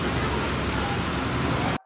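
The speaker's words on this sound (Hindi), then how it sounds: "बहुत तेज इस बार बारिश हो गई है।" Heavy rain pouring down on a highway, a dense, loud and steady hiss that runs nearly the whole time before cutting off abruptly just before the end.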